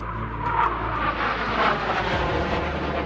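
A Saab Swedish fighter jet roars past, a loud continuous broadband engine rush that swells and fades slightly over about three seconds, with no voices.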